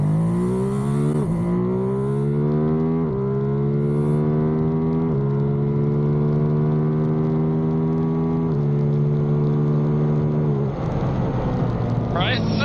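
A 2023 Ducati Monster 937 motorcycle accelerates hard in sport mode, its loud, close engine note climbing through several quick upshifts, each gear change briefly dropping the pitch before it rises again.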